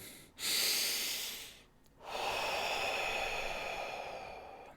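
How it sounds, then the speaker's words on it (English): Two long, deep breaths during a guided breathing exercise: a sharp inhale rises and fades, a brief pause follows, then a long, steady exhale, close and breathy with no talking. "we'll take a deep breath in, deep breath out"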